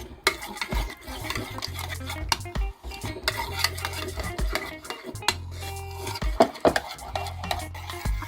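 Beef rib marinade with jerk sauce and pepper flakes being stirred in a bowl, giving steady scraping and clinking of a utensil against the dish with a low hum underneath, close and moderately loud.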